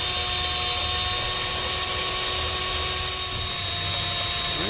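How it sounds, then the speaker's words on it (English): A steady, high whine from a drill running continuously as it drills out wheel hub bolts on a 2011 GMC Sierra 2500 HD, close and loud with a constant tonal hum and no talking. "As he's drilling it out here"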